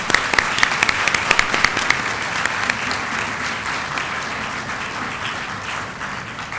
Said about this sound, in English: please give another big round of applause to Professor Alan Beutler